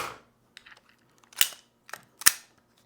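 Sharp metallic clacks and snaps come from an AR-15 short-barrel rifle as its action is worked and the magazine handled during clearing, a few distinct close clicks with quiet gaps between them.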